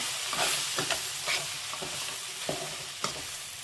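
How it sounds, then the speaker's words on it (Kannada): A spoon stirs coriander powder masala in a pan for paneer egg curry, making close, rhythmic scraping strokes every half second or so over a soft, steady sizzle, with no talking. "ಧನಿಯಾ ಪೌಡರು ಒನ್ ಟೇಬಲ್ ಸ್ಪೂನ್ ಅಷ್ಟು ಈಗ ಮಿಕ್ಸ್ ಮಾಡ್ಕೊಳ್ಳೋಣ"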